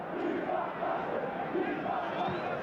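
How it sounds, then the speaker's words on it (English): A massive football crowd at a Liverpool v Manchester United FA Cup semi-final, a dense, continuous roar and chanting of thousands of fans, steady and broad. "Certainly a massive crowd here today."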